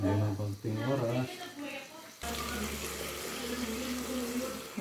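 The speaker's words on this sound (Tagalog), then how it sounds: "nilagyan po ng tubig na kaunti" A little water poured from a container into a cooking pot of vegetables with shrimp paste, heard as a short splashing gush, with a later steady trickle and a person talking.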